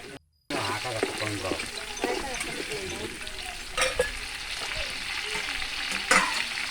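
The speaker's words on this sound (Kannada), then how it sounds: "ಇವಾಗ ನೋಡಿ ಎಲ್ಲ ನೀಟಾಗಿ ಮಿಕ್ಸ್ ಮಾಡ್ತಾ ಇದ್ದಾರೆ" Masala being stirred and fried in a pan over a wood-fired stove for mutton sambar, giving a steady sizzle with scraping stir strokes throughout after a brief silent gap at the start.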